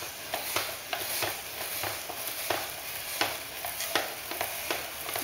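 A hand-cranked vegetable spiral slicer turned while the base is pushed toward the blade, producing a series of soft, irregular crunchy scraping strokes at moderate volume with a steady faint hiss behind.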